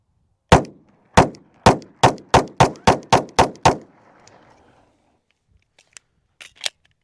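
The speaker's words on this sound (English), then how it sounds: "So here we'll shoot this real quick to show you that difference in recoil" Nine sharp pistol shots from a CZ 75 P-01, fired in a quick, fairly even string, loud and close with short decays, then a few faint clicks and knocks.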